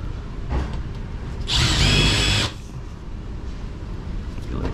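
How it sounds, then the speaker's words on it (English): A power drill drives screws into air conditioning ductwork in one short, loud whirring burst of about a second, set against quieter background noise. "we're gonna put some screws on"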